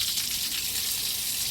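Water squirts steadily into the thru-hull water pickups of an Oxidean Marine Animal twin-hull catamaran, a constant close hiss of spray with no break.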